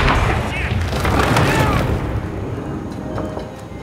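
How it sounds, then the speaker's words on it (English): A flashbang detonating in the Hitman video game, a loud close boom with a rumbling, ringing tail that slowly fades, with a voice speaking over it. "Close your eyes, that's gonna flashbang him."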